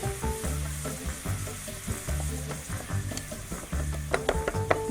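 Batter crackles and sizzles on a hot waffle iron, a steady bubbling hiss with scattered pops and some low clattering nearby.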